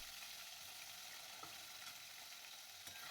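Pieces of rohu fish frying in hot oil in a wok, a steady faint hiss of sizzling running throughout with a couple of brief soft crackles, no voices.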